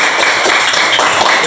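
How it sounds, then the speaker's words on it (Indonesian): Audience applause fills a classroom session, a dense, steady patter of many hands clapping at even loudness throughout, with no pauses. "Tepuk tangan untuk."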